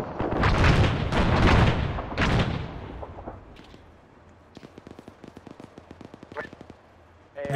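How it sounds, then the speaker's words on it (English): Heavy booms roll through a military video game battle as mortar rounds land, loud rumbling blasts at first, followed by quicker crackling gunfire bursts at a lower level, with people talking over the combat. "Is that mortars?"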